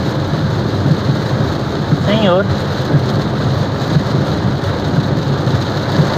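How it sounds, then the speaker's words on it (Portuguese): Heavy rain drumming on a Volkswagen Gol G6 1.0 while driving, with a continuous dense roar, low rumbling and a brief voice near the middle. "A chuva tá intensa agora."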